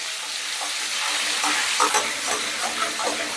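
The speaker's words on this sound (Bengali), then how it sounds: "এবারে তেলের মধ্যে দিয়ে দিলাম বেশ খানিকটা বাটার।" A generous amount of butter melting in hot white oil in a wok gives a steady, loud, broad sizzle with faint crackles and pops throughout, and no voices.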